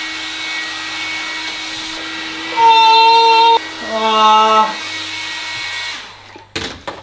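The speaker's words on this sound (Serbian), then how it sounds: "Di je fen malo" A hair dryer hums steadily close by inside a mobile sauna, its motor whine rising in pitch for a few seconds midway before fading and cutting off near the end.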